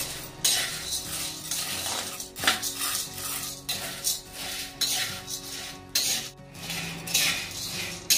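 Chana dal roasting in a pan for Maharashtrian chakali bhajni, stirred steadily with a metal spoon: continuous dry scraping and rattling of grains with clinks of utensil on metal, close and fairly loud, no talk.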